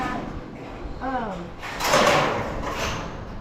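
A door on a chicken tractor swings open with a brief scraping, rattling burst in the middle, close by, next to a short voiced or clucking sound just before it.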